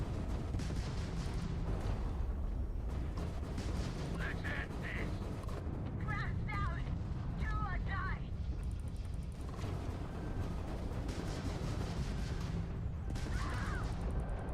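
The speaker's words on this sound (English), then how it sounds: "Fire the main cannon." A spaceship's main cannon firing in the game Starfield: dense, continuous booming and rumbling blasts with mechanical clanks, running the whole time under a talking voice.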